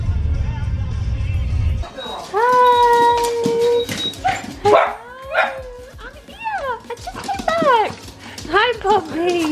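Puppies whimpering and yipping at home in repeated high, wavering cries with short barks mixed in, close and fairly loud after a brief low rumble at the start.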